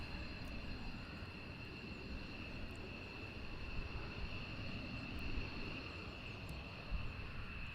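Military aircraft arriving at RAF Lakenheath, a steady, distant broadband jet roar that holds evenly throughout with slight swells, under a faint high whine and no talk.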